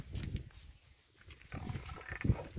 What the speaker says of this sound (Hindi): ये भैंस देखो रमा रही है